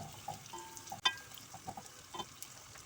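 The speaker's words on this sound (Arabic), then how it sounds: "هالوقت انا عندي البصلة حنزل فيها اشوحها" Chopped onion sautéing in a pan for an Egyptian peas-and-meat dish gives a faint, patchy sizzle with a few soft stirring scrapes and one sharp clink near the start, fairly quiet and with no talk.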